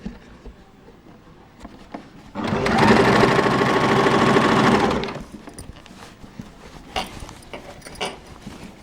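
A sewing machine stitches elastic in a single loud, close run of rapid mechanical chatter lasting a few seconds, with quieter handling sounds before and after.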